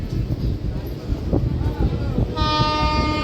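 A MEMU passenger train pulls into Chirala station at dusk, its rumble steady and close, then a loud sustained horn blares in the final second; voices murmur beneath the train noise.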